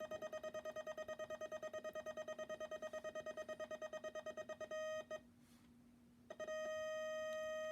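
A Vibroplex bug telegraph key buzzes in a rapid, steady stream of repeated clicks after a screw adjustment, sounding close and clear for several seconds before stopping briefly and then resuming.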